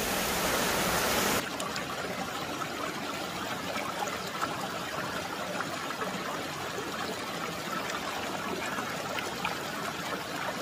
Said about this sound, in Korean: 물을 마셨는데도 계곡 물소리에 취해 계십니다